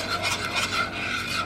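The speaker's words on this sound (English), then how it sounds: "Stir it up." A spoon stirs Alfredo sauce in a pan, making a rhythmic, close rasping scrape that rises and falls with each pass.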